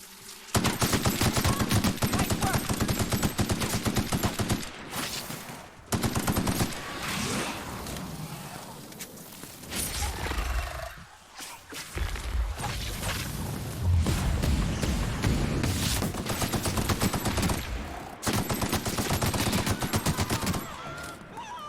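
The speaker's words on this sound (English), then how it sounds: "what are you guys shooting at?" Sustained video game gunfire in a Cassadia firefight, dense rapid bursts like machine guns with booms and whooshes, loud and continuous with brief lulls, no speech.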